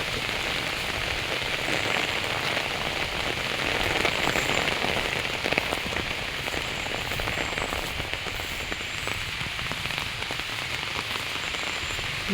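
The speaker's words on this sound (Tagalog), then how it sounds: "Ulan po guys. Payong." Steady rain falls on a harvest field and patters on an umbrella, a dense continuous hiss close by with scattered drop impacts, no voices.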